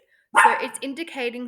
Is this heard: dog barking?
yes